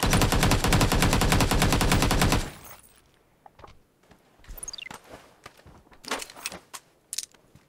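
Rapid automatic gunfire rattles loud and close in the New State Mobile battle royale game on the Erangel map, a sustained burst that stops abruptly, followed by quieter scattered clicks, footsteps and a few faint distant shots.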